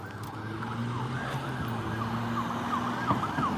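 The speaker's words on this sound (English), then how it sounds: "Ambulance is probably going to make a right-hand turn." An ambulance siren wails through a night street in Washington DC, its repeating rising and falling tone sounding continuously over road traffic noise.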